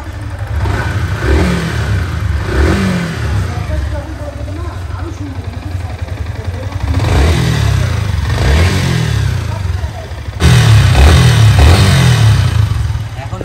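A Yamaha R15 M motorcycle engine, with a kit newly fitted and a knocking engine noise, idles and then revs up in several rising bursts while someone talks over it.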